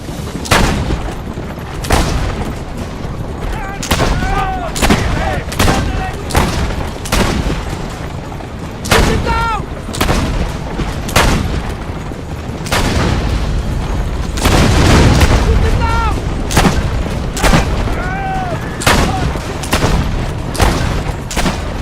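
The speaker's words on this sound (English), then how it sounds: "firing the weapon!" Gunfire and explosions from Assassin's Creed: Brotherhood: a dense, loud run of sharp shots and booming blasts repeating every second or so, with a heavier sustained barrage midway, and no talking.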